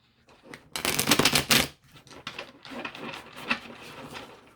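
Large tarot cards being shuffled, a loud riffling burst followed by softer, irregular shuffling and flicking close by, with no speech.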